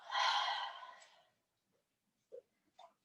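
A forceful exhale during yoga breathing in a vinyasa session comes as one long, airy, breathy rush that fades out, followed by a couple of small soft breath sounds.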